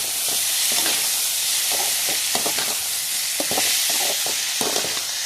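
Chopped chayote being stirred into sautéed onions in a hot pan: a steady bright sizzle of frying with repeated short scraping strokes of the spoon, close and loud with no talking.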